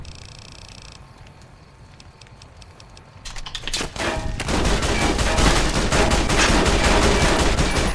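Rifle gunfire in Fallout: New Vegas, starting after a quiet few seconds and then turning into loud, sustained, dense shooting that continues to the end.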